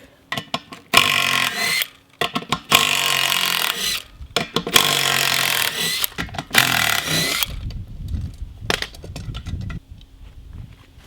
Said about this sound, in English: take your 6-point half-inch socket on your impact and take off this bead lock